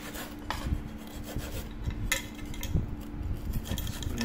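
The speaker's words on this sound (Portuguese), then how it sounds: "tô limpando com a borrachinha para não tirar a tinta, tá? Tô limpando com uma buchinha" A sponge scrubs a painted Brinox stainless steel pressure cooker, making soft, steady rubbing strokes with light rasping and occasional faint metallic clinks, close and fairly quiet.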